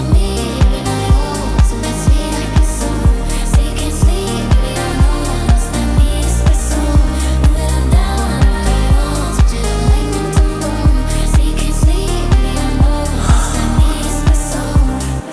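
Song remix with a steady pounding kick, bass and dense layered production, loud and continuous throughout with no voices talking over it.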